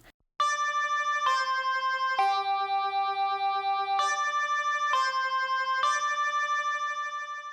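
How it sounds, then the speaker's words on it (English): A bright synth melody of sustained tones, with notes changing every second or so, playing alone and steady after a brief pause at the start. "the final part is a little synth melody"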